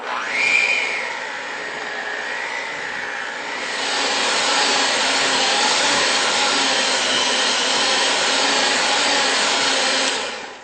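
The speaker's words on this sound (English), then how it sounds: "Grab our mixer again." An electric hand mixer whirs steadily while beating thick chocolate frosting in a bowl, a loud close motor drone that rises in pitch at the start and thickens partway through, running alone without talk.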